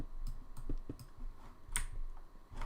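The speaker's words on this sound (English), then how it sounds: "what about my keyboard? Because my keyboard is very loud" A loud computer keyboard being typed on produces close, scattered clicks and taps in short irregular bursts, with no voices.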